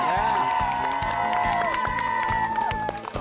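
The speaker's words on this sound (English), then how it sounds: "one more round of applause for our school champion" An elementary school crowd cheers and claps for its school champion, with excited shouts and whoops over bursts of applause and rhythmic thumps. Layered musical tones run through the clip.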